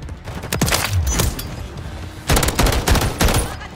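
An enemy fires in Call of Duty MW3, loud and close, in two clusters of sharp rapid shots separated by a short lull, with booming low tails after the reports.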